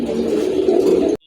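A pair of short-beaked, crested Raj Golla pigeons coo close up, a brief low throaty warble lasting about a second before cutting off.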